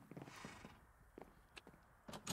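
Horses in a video game clip-clop with scattered hoof beats and a few creaks, moderately close, with no talk over them.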